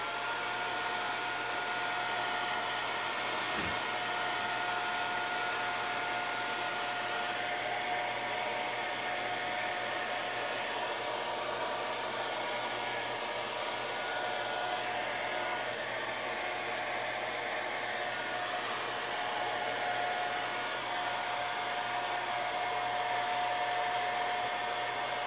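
A hair dryer blows continuously and steadily close by, drying a freshly sprayed Funko POP display stand, its airy roar and faint whine unbroken throughout.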